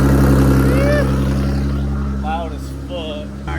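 Turbocharged Nissan 370Z engine running with the same exhaust, a loud steady low drone that holds throughout, while people talk over it.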